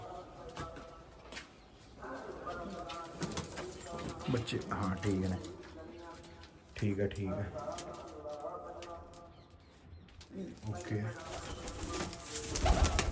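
Pigeons on a farm cooing nearby in repeated soft rolling calls, while people talk over them throughout.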